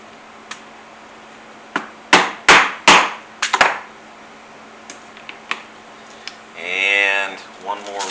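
A hammer strikes a rivet punch while riveting a stick horse, a few sharp, close metallic blows in a quick cluster, with a voice speaking near the end.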